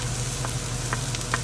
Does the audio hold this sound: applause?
no